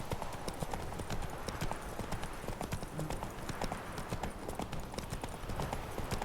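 A horse canters in the video game The Witcher 3, its hooves beating out a quick, steady clip-clop rhythm close by for several seconds with no talk.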